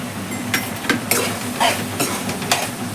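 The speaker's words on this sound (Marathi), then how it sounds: "ते असं चांगलं तेलातच परतून घ्यायचं" Soybean chunks stirred and sautéed in hot oil in a pan for chana masala, a steady close sizzle broken by repeated scraping stirs at an uneven rhythm, with no talk.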